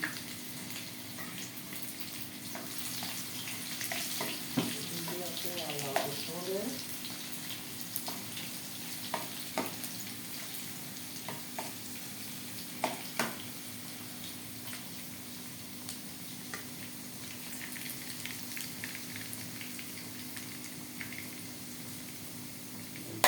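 Garlic and ginger frying in a pan, a faint continuous sizzle with scattered small pops and clicks across a long stretch, no voices over it.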